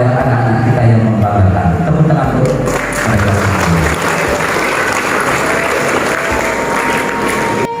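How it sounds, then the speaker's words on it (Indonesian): Audience at a Quran completion and graduation ceremony at an Islamic primary school applauds the children, loud sustained clapping filling the hall with some talk and crowd murmur underneath. "Tepuk tangan untuk mereka."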